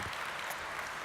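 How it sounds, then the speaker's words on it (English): A congress audience applauds, a dense wash of steady clapping from many hands filling the hall, close and continuous for about a second. "You can applaud yourselves."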